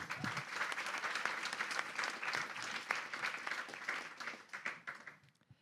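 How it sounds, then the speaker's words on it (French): An audience applauds Inès at a climate injustice event: a dense, steady burst of many hands clapping, fairly close, that thins and fades toward the end. "Vous pouvez applaudir Inès, s'il vous plaît."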